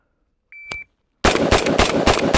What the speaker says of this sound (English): I'm going to shoot into the number 10 off the timer, 6 rounds